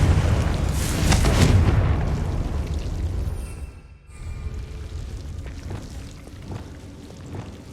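A Confringo spell in Hogwarts Legacy bursts into a loud, close explosion. A booming roar dies away over several seconds and gives way to lighter crackling debris.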